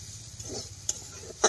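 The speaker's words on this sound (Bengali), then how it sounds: "আলুটা ভাজা হয়ে গেছে" A spoon stirs frying potatoes in a pan, giving a soft scraping shuffle over a faint sizzle, with a couple of sharp clicks of utensil against metal near the end.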